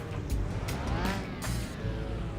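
A V12 car engine with 721 horsepower in Car Mechanic Simulator 2021 runs and revs steadily with rising and falling pitch sweeps, loud and close, with no talking over it.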